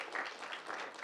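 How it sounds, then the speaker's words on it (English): Applause from an audience at a Grand Rapids Community College idea pitch competition, a steady wash of clapping from many hands for the full second, fairly quiet and with no voices over it. "special warm applause for him"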